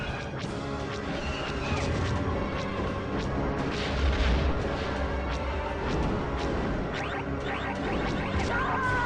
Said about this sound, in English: I can take down 2 missile turrets.